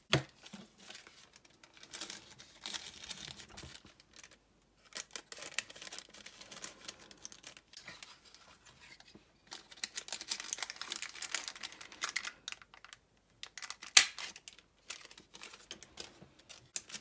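Scissors cut through a glassine paper envelope with crisp, crinkly snips and rustles, arriving in scattered bursts with short quiet pauses between them.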